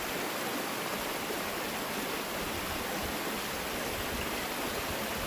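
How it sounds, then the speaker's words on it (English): A small waterfall in a creek pours in a steady, even rush of water, close and continuous, with no voices. "Little waterfall behind you guys."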